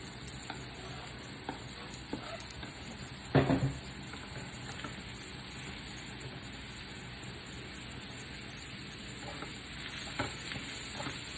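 Mushrooms cook quietly in a pan, a faint soft sizzle with occasional stirring scrapes and one brief louder clatter, no talking.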